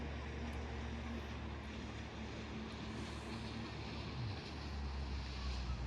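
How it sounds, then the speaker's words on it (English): Jet ski engine on coastal water, a steady mid-distance drone that stays even and unbroken over a broad outdoor noise bed, with a faint pitch shift near the end. "Unfortunately there's a jet skier just arrived which will probably disturb them all."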